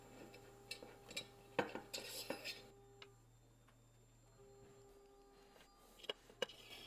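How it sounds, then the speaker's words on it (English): A thumb screw on a Mafell/Bosch parallel guide system is undone and a T-nut slid into the guide rail track: a quiet cluster of small metallic clicks and light rattles, then sparse isolated ticks in near silence. "what I'm going to do is to undo these and slide the T-nut into the track"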